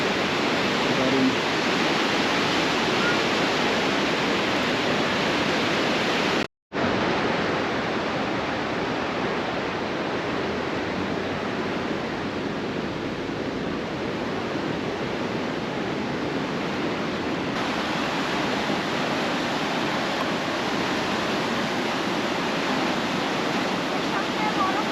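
A powerful waterfall carrying lots of water roars as a dense, constant rush, loud and close, with a brief dropout partway through; no voices are heard.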